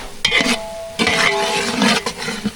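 A spoon scrapes and clinks in a pot as spice powders, including ground curry powder and turmeric, are stirred into a biryani masala, with a low sizzle underneath and bursts of stirring.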